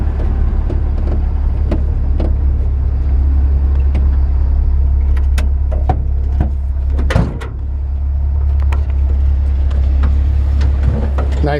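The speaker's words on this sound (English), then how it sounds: "Nice sounding engine." A 1951 Chevrolet 3100 pickup with its 235 inline six runs steadily near at hand, a constant low rumble holding throughout with a few brief knocks and clicks over the top.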